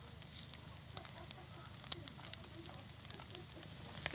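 Onions fry in a little oil over a charcoal fire outdoors in Nairobi, giving a faint, low sizzle with scattered light crackles and ticks and no talking.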